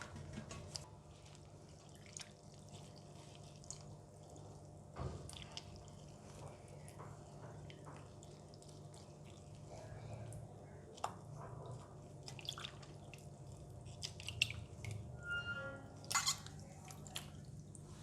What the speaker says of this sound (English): Wash the oyster mushroom to remove all the dirt.